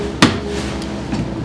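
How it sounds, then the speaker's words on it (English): A hammer strikes the toe of a golf iron held in a vise: one sharp metallic knock, followed by a fainter second tap about a second later. "I'm going to apply pressure with the hammer to the toe of the club to knock it a little bit flatter"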